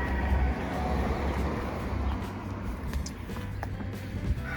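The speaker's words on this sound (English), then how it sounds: "sorry for the car noise" A car passes along a road beside a spring garden, a broad steady rush of tire and engine noise that stays fairly loud throughout, with no voices.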